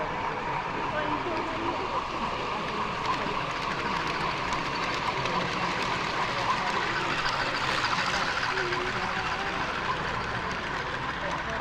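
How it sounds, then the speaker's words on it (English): A model railway engine runs past on an exhibition layout, a continuous low rumble and rolling hum under the murmur of a crowded hall where people chat nearby. "another engine just coming past."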